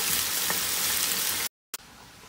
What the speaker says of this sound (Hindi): चलिए इसको फ्राई करते हैं